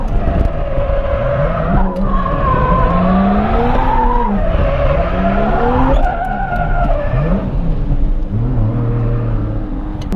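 A Toyota JZX100 Cresta drifts with long, loud, continuous tire squeals sweeping up and down in pitch over the engine's steady roar, heard from close range inside the car.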